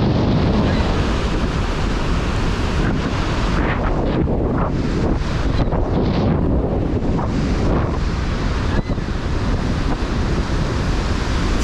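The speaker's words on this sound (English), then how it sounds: "It's like chest high waves." Storm-driven surf and strong wind on the Great Lakes: a continuous loud roar of breaking waves with heavy wind buffeting the microphone throughout, no speech.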